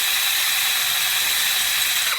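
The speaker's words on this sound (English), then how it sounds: "Let the drill just cut itself in." A drill bit cuts steadily through a motorcycle mudguard bracket for a Honda Deauville, giving a loud, continuous high-pitched grinding whine that holds unbroken before easing off at the end.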